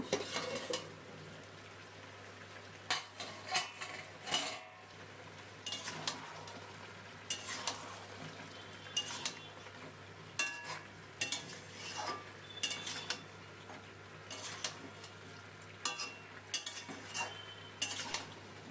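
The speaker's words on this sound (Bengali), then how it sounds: "সবজি আর মাংসের সাথে মশলাগুলো কিছুক্ষণ কষিয়ে নিলাম" Spices, vegetables and chicken for a chicken stew are stir-fried in a pot, heard as quiet scraping and stirring strokes with light metallic clinks over a faint sizzle, no talk.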